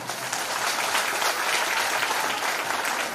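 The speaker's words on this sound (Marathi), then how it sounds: "आमच्या आयोजकांसाठी जरा टाळ्यांचा आवाज देतात की एकदा" Audience applause fills a Navratri celebration event for women, a steady, dense clapping from a crowd that stays loud and continuous throughout with no talk over it.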